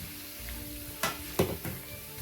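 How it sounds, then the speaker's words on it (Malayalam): Pineapple pieces dropped into a pan of oil and spices for pineapple pickle: a few soft, close thuds and scrapes over a quiet, steady sizzle, with no talk. "ഇനി നമുക്കിതിൽ പൈനാപ്പിൾ ഇട്ട് കൊടുക്കാം"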